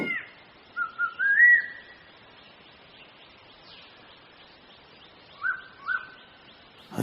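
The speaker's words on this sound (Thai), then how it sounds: "ก็ได้เดินต่อไปข้างหน้าแล้วผิวปาก" Whistled tune from someone walking outdoors on a pleasant day: a few short rising whistled notes near the start, then a pause with faint background, then two more brief whistles later, moderately close.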